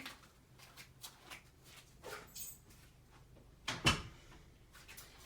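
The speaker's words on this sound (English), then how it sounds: "Let me shut this door for a minute." An indoor door is shut, giving one firm thud near the end after some faint shuffling and handling noises, with no talking.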